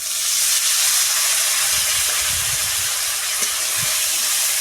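Water poured into a hot pan with turmeric and chili powder for a Bengali mochar dhoka, a loud broad steamy hiss that holds throughout with faint low bubbling, close and without speech.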